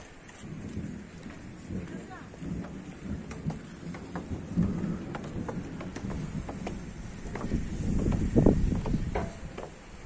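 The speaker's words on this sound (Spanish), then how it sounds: "Fuerte lluvia se aproxima a la barriada de Siloé." Heavy rain with thunder moving toward the Siloé neighborhood, a steady downpour with low rumbling that grows louder toward the end, heard outdoors with no one speaking.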